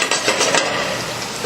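Shallots sauté gently in bacon fat over low heat, giving a constant soft sizzle with a few faint utensil scrapes near the start, close by.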